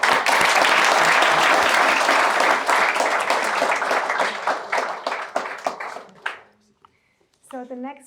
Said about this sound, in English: a big applause to you again